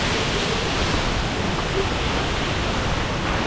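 A waterfall at Twin Falls, Idaho roars in a steady, loud, unbroken wash of falling water that fills the whole clip, with no talking over it.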